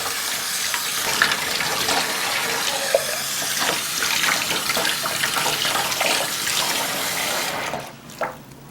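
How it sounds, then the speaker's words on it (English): Running tap water pours steadily while washed baby bottle parts and a nipple are rinsed under it, a continuous close splashing broken by small shifts in flow and ending abruptly near the close. "Then you want to rinse all parts that you've just washed"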